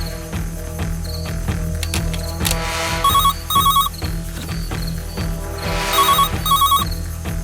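A telephone rings in a repeated electronic pattern, two bright bursts, a pause, then two more, loud and near over a steady droning background.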